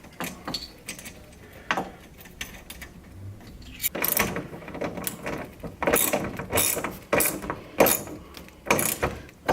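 A bolt with a spring washer is fitted and tightened on an LC200WA2 mount, heard as a close series of irregular ratcheting clicks and metallic clunks, growing busier toward the end.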